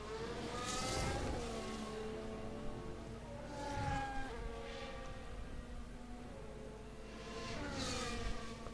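A Formula 1 car on a qualifying lap at Miami, a distant high engine whine rising and falling through gear changes and passes, thin and faint against background noise.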